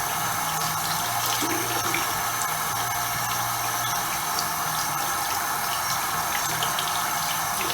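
A calligraphy brush is washed with soap under running tap water, a steady, continuous splashing flow with a low hum beneath it, no voices.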